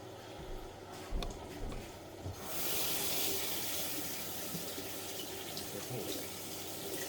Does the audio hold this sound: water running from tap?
yes